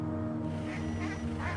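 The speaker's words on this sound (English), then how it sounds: "These ducks aren't very bright yet." Ducks quacking along a remote village road in rural China, a steady chorus of repeated calls over a constant low background hum, fairly close and moderately loud throughout.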